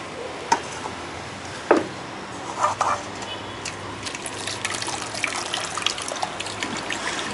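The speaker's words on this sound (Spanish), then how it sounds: "Aquí es donde está goteando la parte líquida, que vienen a ser los purines." A liquid mixture of rabbit manure drips through a strainer into a container, with scattered soft drips and small splashes that turn into a faint continuous trickle.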